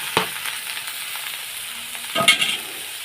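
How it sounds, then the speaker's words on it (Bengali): Washed potatoes frying in a pan after onions browned, a soft, steady sizzle with a couple of brief stirring scrapes, close and moderate in level, no voices. "তো এখন আমি আলুগুলোকে একটু ভেজে নেব লাল লাল করে।"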